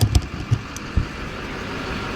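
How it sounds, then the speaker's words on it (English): A car drives past on a rural road near a cattle guard, heard as a steady low engine and road rumble with a few dull thumps near the start, moderately close and without talk. "There's a car coming."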